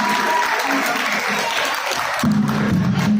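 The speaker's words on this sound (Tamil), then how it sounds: "சூர்யா அவர்களுக்கு மறுபடியும் ஒரு முறை ஒரு பலத்த கரகோஷங்கள்" An audience at a Pongal festival program applauds Surya, a continuous wash of clapping with a voice talking over it near the end.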